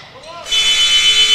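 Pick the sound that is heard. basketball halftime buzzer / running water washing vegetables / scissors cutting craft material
basketball halftime buzzer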